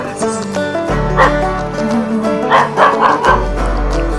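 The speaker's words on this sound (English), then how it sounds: "the dogs are welcoming us" Several dogs bark and yip excitedly, close by and loud, over a low rumbling engine hum.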